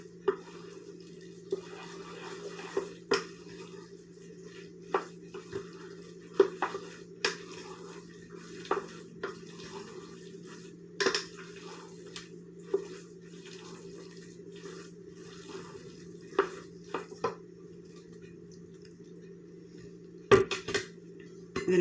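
Ground beef and canned mushrooms being mixed together in a dish for a hamburger casserole, heard as repeated soft clinks and scrapes of a utensil against the dish over a steady low hum, with no talking.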